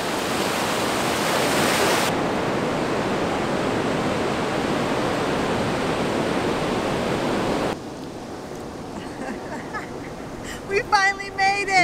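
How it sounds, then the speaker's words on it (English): Surf rolling onto a Gulf of Mexico beach, a loud continuous roar of breaking waves that drops off sharply partway, followed by quieter surf with brief whistling or voice-like sounds near the end. "We made it to the beach. We made it into the sea."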